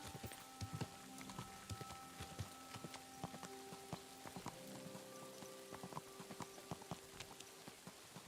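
Horse hooves clip-clopping at an easy walk in Kingdom Come: Deliverance, quiet, steady irregular thuds over a faint rainy background hiss, with no voice over it.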